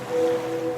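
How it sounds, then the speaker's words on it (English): Sound-effect ocean waves from a laundry detergent commercial: a steady, soft washing surge with a faint underlying hum, heard briefly and alone. "now you're drifting asleep to the scent and sound of waves."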